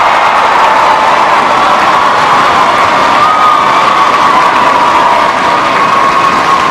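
Arena crowd at a SEA Games women's artistic gymnastics event cheering and applauding a stuck bar dismount, a steady loud roar of voices and clapping sustained throughout with no letup.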